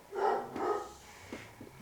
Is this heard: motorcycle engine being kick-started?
no